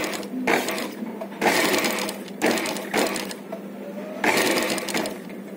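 A sewing machine runs stitches along invisible thread piping, the thread laid in the middle of cloth folded in half; the motor whirs close up in about five steady bursts with short pauses between them.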